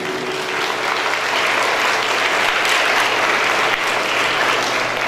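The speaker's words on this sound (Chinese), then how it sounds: "是借由各位同学哦的掌声哦来感谢我们王总经理。" Students in a hall applaud a general manager with loud, dense, sustained clapping that stays even throughout, with no voices on top.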